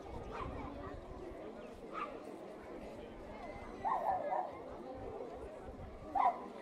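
Dogs at an outdoor animal blessing in Mikstat, with a few scattered barks and yips rising from a murmuring crowd, moderately distant, while people talk nearby.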